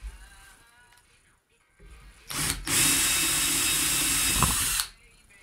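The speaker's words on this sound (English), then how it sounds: "I'm going to start drilling some holes bigger" A drill bores holes bigger in a soft aluminum Singer sewing machine motor part under light pressure: after quiet handling noises, a loud, close whir runs steadily for about two and a half seconds, then stops.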